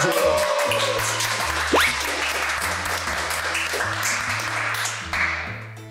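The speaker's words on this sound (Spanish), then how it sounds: "¡Aplausos!" Studio audience applauding as guest Pedro Ascoy is introduced on a talk show, continuous clapping with crowd noise under a low musical backing, a brief swell near the end.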